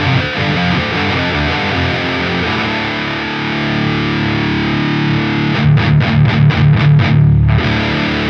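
Heavily distorted electric guitar through a distortion pedal with bass at maximum, playing loud, thick chords with deep boomy low end, ending in a run of rapid choppy strums.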